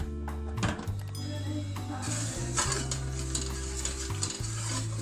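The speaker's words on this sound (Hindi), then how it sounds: "बस मुसलसल आपने चम्मच चलाते रहना ताकि जो जब तक ये चीनी जो है इसके अंदर मेल्ट नहीं हो जाती।" A spoon stirring sugar syrup for jalebi in a pan, steady scraping and clinking against metal over a low bubbling sizzle, with an electronic tone running underneath.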